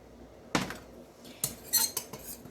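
A small knife scrapes and clinks against a bowl while dry talc-free rice body powder with lavender essential oil is stirred, with a few separate clatters spaced across a quiet room.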